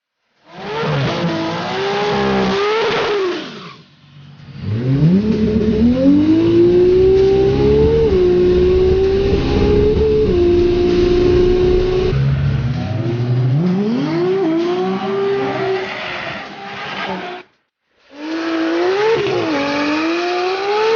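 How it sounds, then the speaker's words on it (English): A Toyota Supra drag car at TX2K chasing seven-second passes screams loud and close through repeated rising revs and gear changes, with brief drops between pulls and a final burst of acceleration. "We have the Toyota Supra here, trying to go sevens with it."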